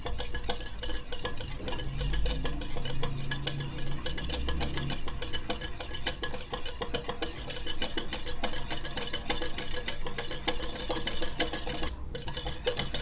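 Cream and powdered sugar are beaten together for homemade ice cream, a rapid and very even ticking of the whisk against the bowl that runs steadily for about thirteen seconds, close up and moderately quiet.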